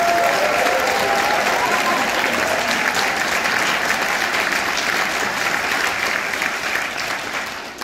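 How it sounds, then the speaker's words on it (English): A high school spring concert audience gives the percussion section a long, dense burst of clapping, loud and steady for several seconds before slowly thinning toward the end. "we want to give a big shout out and a big round of applause to our percussion section playing with both bands"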